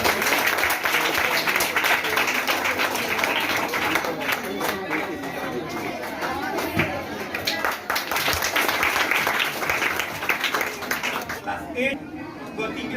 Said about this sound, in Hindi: सेकंड टॉपर है ऋतिका के लिए जोरदार ताली